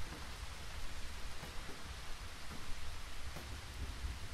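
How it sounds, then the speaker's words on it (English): Steady rain hisses on surfaces in a horror video game, a soft, even wash of drops with faint low rumbles beneath, continuous and without speech. "Quiet down there, rain."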